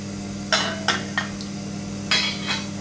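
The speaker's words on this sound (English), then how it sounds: "Gently give it a shake to mix the sauce." A pan of Chinese meatballs in sauce is shaken to mix, giving a few sharp metallic knocks and scrapes spaced irregularly over a low steady kitchen background hum.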